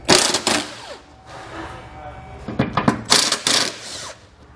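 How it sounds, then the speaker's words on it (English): Bursts of a power tool loosening front bolts on a 2020 Jeep Cherokee, two loud whirring and rattling spells separated by quieter pauses with faint clinks, heard close up. "So there are 1, 2, 3 bolts here in the front. We're just going to loosen these 3."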